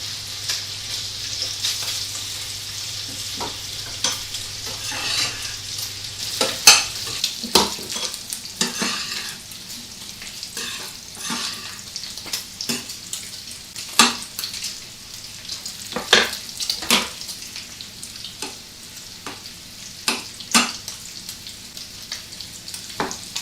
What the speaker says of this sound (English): You don't want your bacon too crispy, but you do want it to brown.